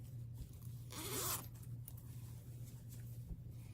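A single quick zip on a small fabric strawberry notion pouch, one short close rasp about half a second long against a quiet room.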